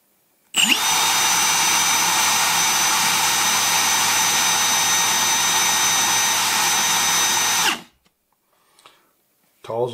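Milwaukee M18 FPD2 Fuel brushless hammer drill running in second gear, a loud steady high whine held for about seven seconds before stopping abruptly, followed by near silence with faint sounds.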